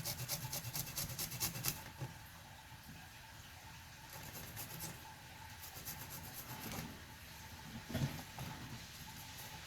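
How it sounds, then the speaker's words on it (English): Small garlic cloves are grated on a microplane grater for miso ramen, a close, continuous rasping scrape in short repeated strokes that is louder at the start and near the end. "And I'm gonna just grate them in with my microplane grater."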